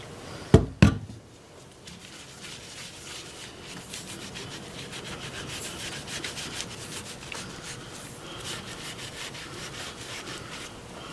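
A rag rubbing sanding sealer onto a turned wood bowl, a steady close scrubbing and swishing that builds after two sharp knocks at the start, with no talking.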